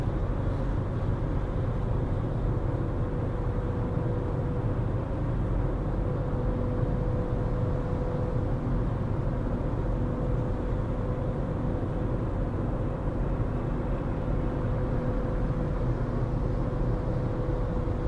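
Steady street traffic on a Saturday afternoon in New Orleans, a continuous low rumble of passing cars with a faint engine hum, heard at moderate distance and without voices.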